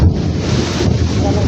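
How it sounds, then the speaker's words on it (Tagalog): Thunder rolls during an afternoon rainstorm in a rural Philippine yard, a low, loud rumble blended with rain and wind buffeting the microphone. "Galugdog lagi."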